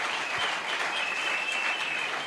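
A church congregation claps together in a steady, dense round of applause that holds at an even level throughout, with no voices standing out.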